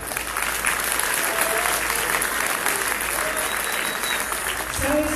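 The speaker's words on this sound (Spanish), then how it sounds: "Fuerte el aplauso para ti." Strong, even applause from a conference audience at a motivational talk, with a dense wall of clapping lasting the whole stretch and a few faint voices or whistles over it.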